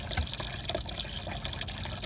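Water running from a KitchenAid refrigerator's dispenser through a new EveryDrop by Whirlpool filter, a steady spattering flow into a container with small drips and splashes, close and moderately quiet.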